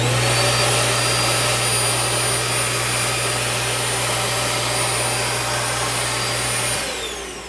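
Built-in vacuum cleaner in a 2023 No Bo 19.1 toy hauler runs with a loud, steady whine and airy rush plus a constant low hum, holding unchanged for several seconds before the motor begins to wind down at the end.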